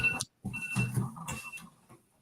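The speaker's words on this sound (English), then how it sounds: "My alarm's going off." An alarm goes off indoors with a string of close, high, evenly spaced electronic beeps that break off for a moment, resume, then fade out.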